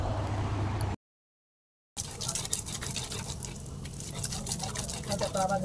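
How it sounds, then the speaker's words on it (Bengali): Fried ridge gourd, onion, garlic, ginger and chilli are ground into a paste, giving close, rough rubbing and scraping strokes. A short silent gap breaks the sound near the start. "ভেজে নিয়ে এখন দেখো বেটে নিচ্ছি।"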